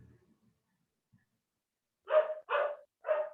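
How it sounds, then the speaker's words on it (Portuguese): A dog barks three times in quick succession, fairly close, after a brief quiet moment. "meus cachorros resolveram latir agora"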